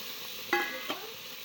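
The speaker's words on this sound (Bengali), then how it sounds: "দুধ মাংসটা কষিয়ে নিচ্ছে।" Meat being sautéed and stirred in a pan, a soft background sizzle with a couple of brief clinks of a utensil against the pan, faint and close.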